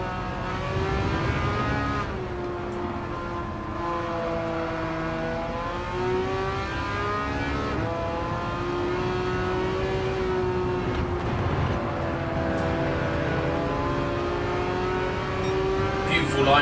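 Racing car engine in Gran Turismo 7 drifting uphill, a steady loud drone with rising and falling pitch as revs change, continuous and close, with someone talking over it.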